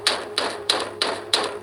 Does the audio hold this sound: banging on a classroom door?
yes